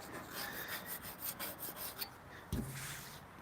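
A tool scraping residue off a firewood-processing machine during maintenance, a steady run of close, gritty rasping strokes followed by a brief heavier scrape near the end, with no talking.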